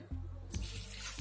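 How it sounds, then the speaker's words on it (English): Water pours steadily into mint lemonade, a continuous splashing gush that runs for about a second, close by with no talking. "At last pour water"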